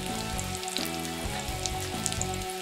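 A battered Monte Cristo sandwich fries in a pan with a steady, moderately quiet crackling sizzle of scattered oil pops over a low background hum, no talking.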